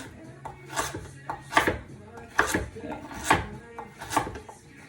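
Knife chopping vegetables for chili into bite-sized chunks on a board, a series of crisp, moderately loud cuts in an uneven rhythm, roughly eight strikes, with faint background rustle.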